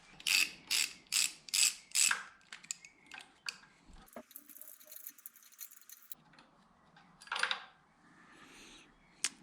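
A 1/4-inch ratchet clicks through a series of quick, rhythmic strokes while working a cylinder head bolt on a BMW N52 engine, followed by quieter tool handling and a few scattered metallic knocks nearby.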